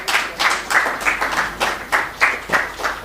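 Audience at an industry-academia launch event gives a short round of applause, heard as a series of spaced, loose bursts of clapping rising and falling roughly every third of a second, moderately close.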